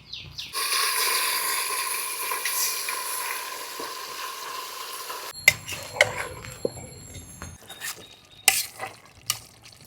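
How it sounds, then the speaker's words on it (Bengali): Marinated country chicken hits hot mustard oil tempered with cumin, dried chillies and bay leaf, giving a loud, steady sizzle for about five seconds, then scattered clinks and scrapes of stirring in the pot. "এবার মেখে রাখা মাংসটা দিয়ে দিই"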